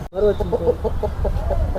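A country chicken held in someone's hands clucks in a quick series of short, close, agitated notes, with a voice talking underneath.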